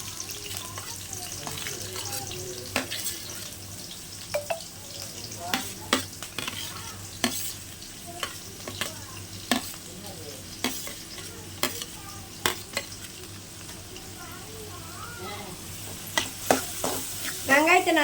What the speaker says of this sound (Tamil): எண்ணெய் நல்லா சூடாயிடுச்சு. இப்போ வெங்காயம் போட்டுக்கலாம்.